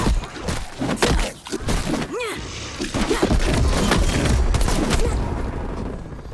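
Heavy combat sounds in Call of Duty: Black Ops Cold War around a frag grenade, with a sharp burst and booming impacts amid rattling gunfire and thuds, and voices calling over the din.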